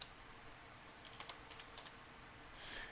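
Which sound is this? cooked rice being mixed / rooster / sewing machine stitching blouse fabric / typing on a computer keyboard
typing on a computer keyboard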